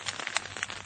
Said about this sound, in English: It's been raining all night and all morning.